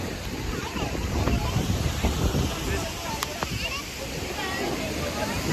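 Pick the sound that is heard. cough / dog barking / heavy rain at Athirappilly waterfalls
heavy rain at Athirappilly waterfalls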